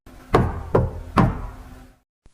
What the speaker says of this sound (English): 2 nights later, the knock came again.